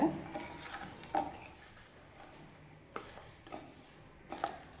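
Mango pickle being stirred together with oil: soft scraping and a few faint clinks of a spoon against the container, coming in scattered bursts, fairly quiet and close, with no talking.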